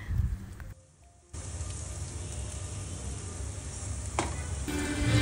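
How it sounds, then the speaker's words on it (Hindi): Cashew paste sizzles in a hot cooking pan, a steady crackling hiss that drops out briefly near the start and then returns at full strength until the end. "तो ये मैंने डाल दिया काजू का पेस्ट"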